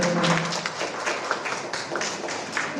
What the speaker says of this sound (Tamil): குழந்தைகளுக்கு கைத்தட்டி உற்சாகப்படுத்தி வரவேற்கிறோம்